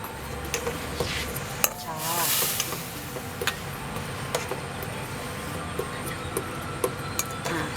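A utensil stirs palm sugar and shrimp paste in a pan over low heat, making light, scattered clicks and scrapes against the metal at an irregular pace while someone talks over it.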